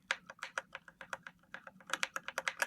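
Rapid, crisp presses of a keyboard's escape key, close up, in quick irregular taps that speed up into a dense flurry toward the end.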